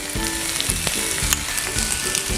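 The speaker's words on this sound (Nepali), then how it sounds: "अब यसलाई हामीले 5-6 मिनट मजाले भुट्ने" Goat meat fries in a pan with ground red chilli, dried chilli, cumin and coriander, giving a loud, close, steady sizzle broken by regular scraping stirs throughout.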